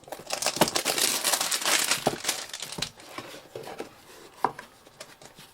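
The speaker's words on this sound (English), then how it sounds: "Let me open this box." A cardboard box holding a Sunwayfoto camera L-bracket is opened by hand, with a busy run of crinkling, tearing and rustling packaging that is loudest at first and then eases into scattered softer crackles and taps.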